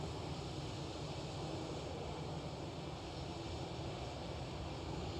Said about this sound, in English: And there's a 737 with KLM right behind it. There it is, stealing some airtime.